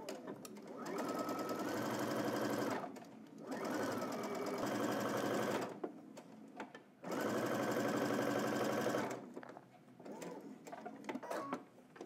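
A home sewing machine backstitching on a Simplicity #9945 pattern, with steady motor-driven stitching runs in several bursts, stopping briefly between them as the fabric is reversed; moderately loud and close, with no talk over it.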